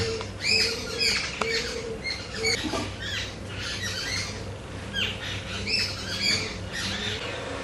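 Several birds squawk and chatter in sharp, overlapping calls, squabbling over fallen ripe mangoes, close by and busy, over a low steady background hum.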